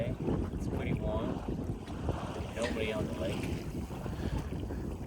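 Steady wind rushes across a microphone while sailing a boat on sunny Lake Coeur d'Alene, blowing about 6 to 8 knots, a constant broadband roar with faint water wash beneath and no clear talk.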